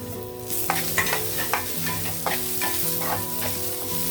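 Carrot and onions stir-frying in a pan with spring onion going in, a steady close sizzle broken by regular scraping strokes of a spatula about every half second, no talk.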